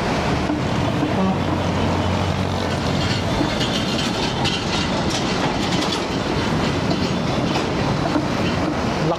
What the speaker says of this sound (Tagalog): Ang bearing, lakas. Ramdam na ramdam mo sa manibela yung tunog.